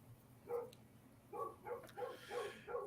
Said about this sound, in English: Forgive my barking dogs.